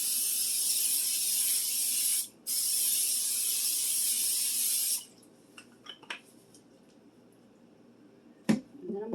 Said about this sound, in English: I'm going to spray it well.